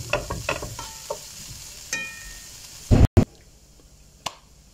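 Onions and shawarma meat fry together in a pan, with a low sizzle under a run of close stirring scrapes and spoon clacks, then a couple of sharp clanks and a quieter tail.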